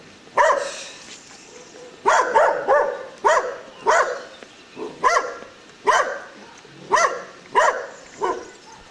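A dog barks repeatedly in short bursts, about a dozen barks spaced roughly half a second to a second apart, fairly close and loud.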